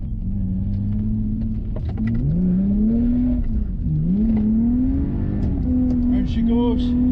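A Lexus IS200 engine revs loudly during a drift run, its droning note rising and falling with throttle changes and a clutch kick, bouncing toward the limiter under excited speech.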